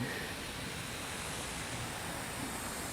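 Nutrient solution is sprayed onto the sides of succulent plant leaves as a fine mist, producing a continuous, even, fairly soft hiss of spray with no pauses and no talking.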